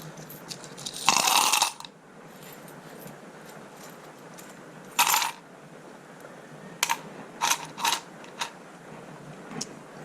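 Dirty old coins are tipped into a plastic toy rock tumbler barrel, first as a loud metallic cascade, then in several shorter clinking drops spaced seconds apart, close up with quiet between them.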